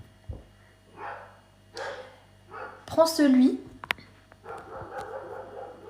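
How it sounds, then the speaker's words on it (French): A female dog barks repeatedly indoors in short separate bursts, while a person talks between and over the barks. "elle fait que d'aboyer, c'est un truc de fou"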